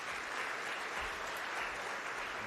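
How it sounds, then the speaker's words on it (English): Faint, steady applause from an audience at an agricultural awards ceremony, a continuous wash of clapping heard from a distance with no voices. "Please give him a round of applause."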